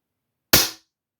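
A single sharp shot from a SAM K11 .177 single-shot PCP target air pistol, one crisp close crack that decays within a quarter second, with silence before and after.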